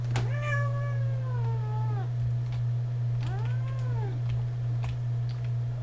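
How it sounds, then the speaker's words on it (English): Two drawn-out meows from a cat sitting in a lap sound close by, each a wavering cry, separated by a pause over a steady low electrical hum. "I have a pretty big little kitty in my lap"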